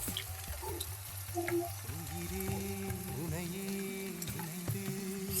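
Ground masala is stirred into ivy gourd in a frying pan, a soft continuous sizzle with scraping spoon strokes and occasional clinks against the pan, close and moderately quiet.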